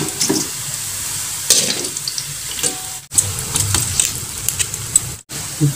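Snack dough made with a bottle mold fries in hot oil, giving a steady crackling sizzle with scattered bright pops and occasional clatters of a utensil, with no talking.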